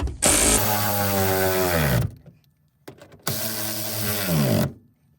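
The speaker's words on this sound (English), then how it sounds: "We're going to grab our ratchet and we're going to tighten these down." A powered ratchet tightening bolts on a Ford Bronco top, heard as two close, loud bursts of whirring motor whine, each dropping in pitch as the bolt snugs down, separated by a short pause and a faint click.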